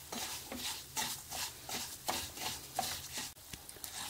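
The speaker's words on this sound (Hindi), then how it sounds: "जब हम इसे चला रहे हैं तो इसमें से आवाज आ रही है, तो इसका मतलब है दाल हमारी अच्छी तरह भुन गई है" Moong dal roasting in ghee for halwa is stirred in a pan, a quiet rhythmic scrape of spoon strokes over a soft crackling sizzle.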